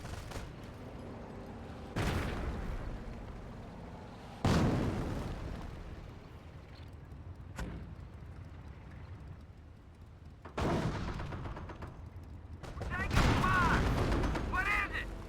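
Gunfire and artillery from the video game Company of Heroes, with sharp blasts and crackling shots at intervals over a steady battlefield din, and a commentator talking throughout.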